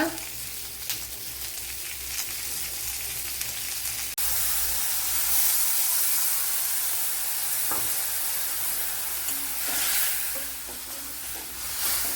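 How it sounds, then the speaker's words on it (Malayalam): Ground spice paste hits a hot pan during a Kerala cashew nut dish, setting off a loud, steady sizzle with hissing steam and occasional scraping stirs, heard close up without talk. "ഇതിലേക്ക് ഇനി അരച്ചു വെച്ചിരിക്കുന്ന അരപ്പ് ഒഴിച്ചു കൊടുക്കുക"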